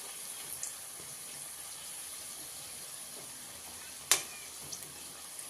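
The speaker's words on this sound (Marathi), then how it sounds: "तेल आपलं चांगलं तापलेलं आहे. तुम्ही बघू शकता आपल्या करंजीला कसे बबल्स आलेले आहेत." Karanji pastries fry in hot oil with a faint, steady bubbling sizzle, quiet and close, broken by one sharp clink partway through.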